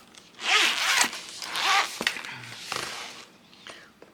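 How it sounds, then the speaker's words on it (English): Several quick zipper pulls, each a bright rasping zip, close and fairly loud, with short pauses between them. "We got zippers."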